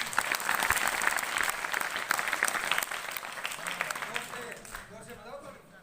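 An audience at a Constitution Day talk claps in a steady, fairly close round of applause that thins out toward the end, where a voice begins to speak.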